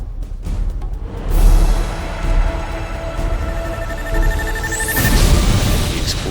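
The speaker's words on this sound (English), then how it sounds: "explosion knocked me out." A big explosion in a Twisted Metal Black video game cutscene: a dense, loud rumbling blast that sustains throughout with a bright crackling sweep near the end, no voices.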